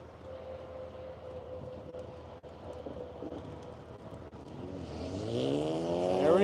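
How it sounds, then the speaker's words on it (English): A turbocharged car spins its wheels on a dry skid pad, a steady engine drone building into a louder, rising rev with a turbo whine toward the end. "There he goes, spinning those wheels and the turbos."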